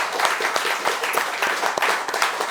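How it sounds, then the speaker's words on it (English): Steady, full applause fills a political party gathering, dense hand claps sustained throughout at a close, loud level. "Let's give a round of applause for those of you who are running for local office."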